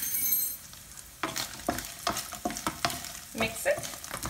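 Oats dish frying in a pan, a steady close sizzle broken by repeated stirring scrapes and spatula clacks at an irregular rhythm, with no one speaking.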